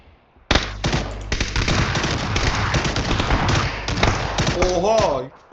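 Rapid bursts of sharp shotgun blasts in PUBG, clustered shots and thuds firing close and loud, with a player's voice talking over the gunfire.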